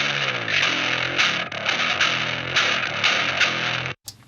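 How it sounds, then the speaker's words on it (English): Distorted rock bass with all the low end filtered away, leaving a thinner, buzzy midrange grind that chugs steadily in a riff, moderately loud and alone, stopping abruptly near the end. "I go through and I filter out all the low end to make it work with the other bass track I have,"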